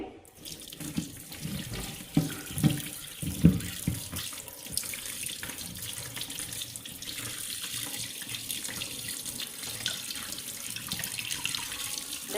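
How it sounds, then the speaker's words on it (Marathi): Running tap water into a sink while fresh mackerel is rinsed clean, a continuous close stream with a few sharper splashes and clatters near the start. "चांगलं स्वच्छ धुवून घेऊया आधी ते बांगडे"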